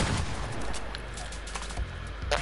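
Rapid gunfire bursts in a first-person shooter video game, a dense run of shots continuing throughout with a louder cluster near the end, no talk heard.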